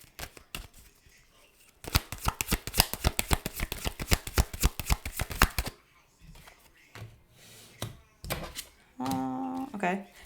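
Tarot cards being shuffled: a dense riffle of rapid crisp clicks and snaps for several seconds, then looser, quieter card handling and a brief stretch of voice near the end.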